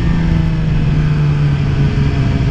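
A 2017 Suzuki GSX-R750 motorcycle engine drones loud and close during a demo ride, holding a steady, throaty hum with a constant pitch and no speech.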